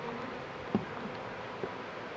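A swarm of honeybees being relocated, their buzzing a soft, steady drone heard close with no voices, broken by a couple of brief louder passes.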